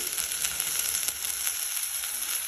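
Mint and curry leaves sizzle and crackle steadily in a hot pan of oil while cooking tomato bath, a constant close frying hiss with no voices.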